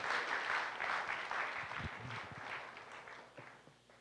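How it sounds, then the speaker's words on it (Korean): Applause from a church congregation during a mission festival service, a steady, dense clapping that fills the room and slowly tapers off toward the end, with no talking over it. "박수 한번 칠까요?"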